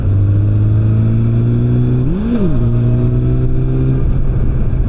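A vehicle engine with a throttle that does not fully return holds a loud, steady drone near the microphone, then rises briefly in a quick rev and drops back to the same high idle.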